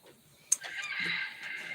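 A rooster crows once, a sustained raspy call following a brief sharp squawk, moderately close with faint background noise.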